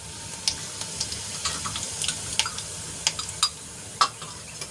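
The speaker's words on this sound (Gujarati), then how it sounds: "તેલ ગરમ થાય એટલે એમાં આપણે અડધી ચમચી જેટલું જીરું એડ કરીશું" Cumin seeds sizzling in hot oil in a kadai, a steady soft frying hiss with scattered light crackles and pops, heard close and alone with no talk.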